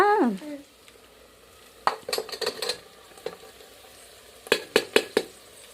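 Mutton dropped into hot frying masala for a village-style curry cooked outdoors in a field, starting with a short voiced sound, then bursts of sizzling and splattering with metal spoon clatter against the pot, loud and close.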